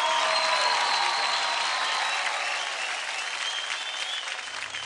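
Loud, sustained applause from a studio audience at a televised Indian dance competition results show, steady and dense throughout before easing slightly near the end.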